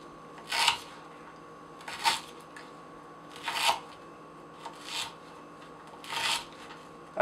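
A Spyderco Paramilitary 2 folding knife with an S30V steel blade slicing through rope, giving five or six short rasping cuts spaced about a second or more apart, close and moderately loud with no talking.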